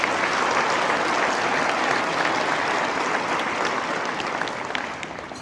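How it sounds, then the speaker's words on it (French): An audience at an agricultural hall of fame ceremony applauds sponsors, a thick wash of clapping that stays loud and steady, then tapers slightly at the end. "mesdames et messieurs, applaudissons nos partenaires de la catégorie Bronze"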